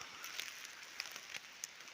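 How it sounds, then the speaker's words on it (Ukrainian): Light outdoor rain falling on a farm just after hay was brought in, a steady soft patter with a few sharper drops striking close by, heard alone without talk. "О, але гарний дощик."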